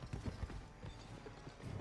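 Horse hooves clip-clop in a steady rhythm from the Western video game GUN, a short run of fairly close hoofbeats with no talking over them.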